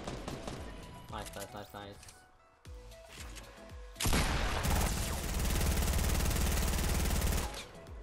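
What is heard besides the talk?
gunfire shooting down walls in Fortnite video game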